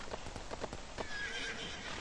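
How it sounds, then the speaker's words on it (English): In the Hitman Contracts video game, horses neigh and whinny among rapid clip-clopping hooves, several sharp calls over a busy, constant background. "Those freaking horses are whinnying."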